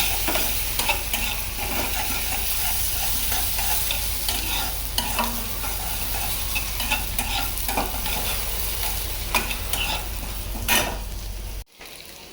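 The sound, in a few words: fish being fried in a pan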